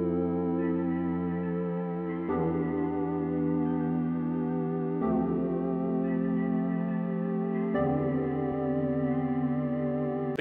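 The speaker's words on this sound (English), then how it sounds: "Let's take this mini V synth, making sure the guide and legato are on" A Mini V synth with glide and legato on and added noise, fed through a decimator, plays four sustained gliding chords with a harsh, gritty, downsampled texture, loud and alone with no voices.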